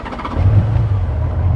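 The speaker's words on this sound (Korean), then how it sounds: "6기통인 게 느껴져요." A Honda Valkyrie Rune motorcycle with a six-cylinder engine idles close by, a smooth, steady low rumble that holds evenly throughout with no talk over it.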